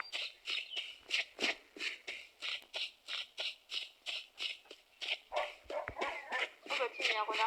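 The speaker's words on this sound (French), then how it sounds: "ils aboient comme des chiens, les coyotes" Coyotes in the hunting video game Hunting Season give a steady run of sharp, dog-like barks, roughly two per second, loud and close, with a voice talking over them near the end.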